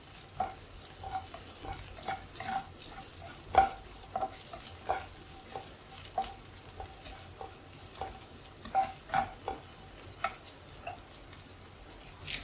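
Dried red chillies and a green chilli sauté in hot oil with softened onions, giving a low, quiet sizzle broken by frequent soft stirring scrapes and taps of a spoon against the pan.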